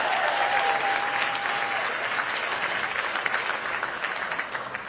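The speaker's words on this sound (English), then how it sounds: "Let's give them all a big round of applause." A large audience at a public address by Kamala Harris gives loud, dense applause for the stage and AV crew, holding strong and then easing slightly toward the end.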